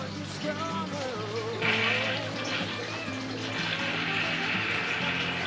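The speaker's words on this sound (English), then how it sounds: "And you can hear it draining through the pump." Water gurgling and draining back through the pump of a homemade ebb and flow system for microgreens, a close, continuous trickling wash with a steady tonal hum underneath.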